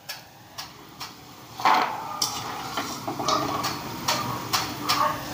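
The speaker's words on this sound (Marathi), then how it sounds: "हे बघा राहिलेले सर्व मी असे तळून घेते." Cashews for masala kaju frying in oil, with a light, steady sizzle broken by a run of sharp taps and clinks as they are stirred in the pan, up close and without talk.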